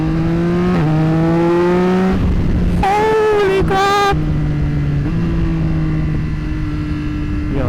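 A Yamaha R9 motorcycle pulls hard through the gears, its loud, close engine note rising in pitch and then dropping at each shift before climbing again.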